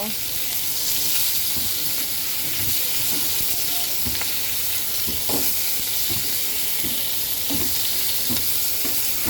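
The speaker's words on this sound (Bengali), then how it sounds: "এই আমি দিয়ে দিলাম আলু আর বেগুনটা দিয়ে দেব কিছুটা কাঁচামরিচ দিয়ে দেব স্বাদ ওই লবণ সব কিছু সুন্দর করে একটু ভেজে নেব" Potatoes and eggplant frying in a pan with green chilies and salt, a dense continuous sizzle with occasional dull knocks of a spoon stirring, steady and loud, no one speaking.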